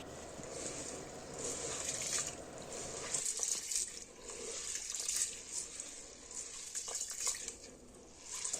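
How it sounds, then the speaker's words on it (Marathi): Water sloshing and splashing in a vessel as wheat grains are swirled and rubbed, steady and close, with a faint hiss throughout. "यामध्ये पाणी टाकून 2 ते 3 पाण्याने स्वच्छ असे गहू धुवून घ्यायचे"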